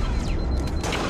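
A gun fires in Halo: Reach, a short burst of shots with a booming low end, heard alone and loud over roughly a second.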